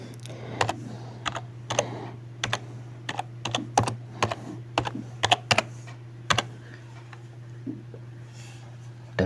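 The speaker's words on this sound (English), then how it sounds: "To clean the application, I will type .NET space clean." Keystrokes on a computer keyboard as a .NET clean command is typed on a Linux machine, a steady run of close, crisp clicks with brief pauses, over a low constant hum.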